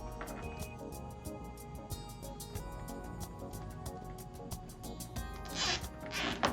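A zip tie is pulled tight on a burlap wreath, producing a rapid ratcheting zip of evenly spaced clicks that runs for several seconds, close and quiet, with a brief rustle near the end.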